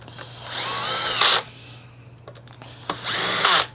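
A power screwdriver drives screws into the cover of a Kirby vacuum cleaner in two loud, whining bursts of about a second each, separated by a pause with faint clicks and handling of parts.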